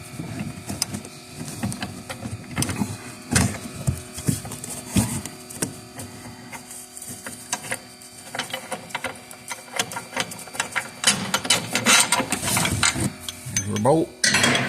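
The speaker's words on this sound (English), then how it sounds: "Get our ratchet off." A ratchet works a bolt loose from the upper A-arm of a 2016 Colorado, giving dense, rapid mechanical clicking that runs steadily throughout, close and moderately loud, with no talking.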